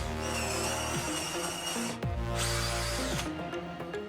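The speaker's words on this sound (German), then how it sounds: "Dann bohre ich mir gleich von innen die Löcher für die Führungsstäbe." A power drill bores holes for guide rods from the inside of a workbench built from scrap wood, its motor whining steadily and close, with pitch dipping as the bit bites at a few moments.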